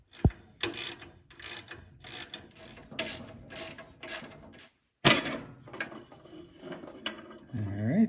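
A ratchet clicks in short repeated bursts while unbolting the shifter bracket on an old Craftsman 9 HP snowblower, the work close and moderately loud, with a brief pause midway.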